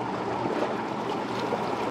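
A modified forklift electric motor drives a solar boat in reverse, producing a steady, even hum mixed with continuous splashing water and wash, holding constant throughout.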